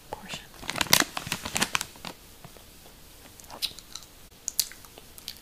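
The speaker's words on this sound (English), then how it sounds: "And also the gum chewing portion" Close, wet chewing of gum with soft smacks and crinkly clicks comes in uneven bursts, louder early on, then sparser, with quiet pauses between.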